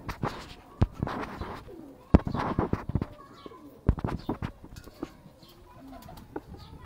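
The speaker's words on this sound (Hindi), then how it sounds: "बड़े अच्छे माशाल्लाह कबूतर हैं" Heera lal pigeons coo in soft, low bursts, close by, mixed with scattered knocks and wing or movement sounds, with faint voices in the background.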